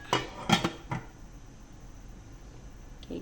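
A lid clanks onto a metal pot of boiling ginger tea with lemon, giving a few sharp metallic clinks close by and then a faint steady simmer.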